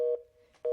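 A telephone busy tone after a call is hung up: short, clear electronic beeps separated by a gap, with a faint lingering tone between them.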